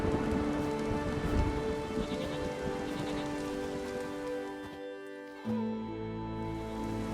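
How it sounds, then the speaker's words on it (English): Rain falling in The Witcher 3 video game, a steady broadband hiss under sustained musical tones, with a brief dropout near the end before the rain and music return. "There's no point standing here in the rain."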